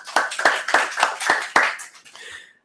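At a conference session, someone near the microphone claps about six distinct times at a steady rhythm. The claps slow and soften at the end, then stop.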